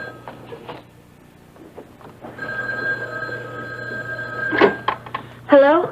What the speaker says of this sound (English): It's just the phone. I'll get it.